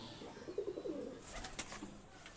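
Pigeons coo softly in a short, low murmuring run, close by, with a brief rustle and a higher chirp near the end; these are high flying pigeons kept in a loft.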